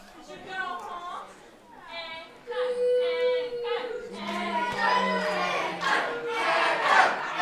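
A wrestling crowd at a P.E.W. Foregone Conclusion 2 show chants for Echo Reed in a rhythmic call, many voices swelling louder and denser as the chant builds.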